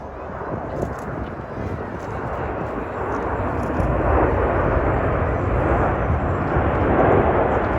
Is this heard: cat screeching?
no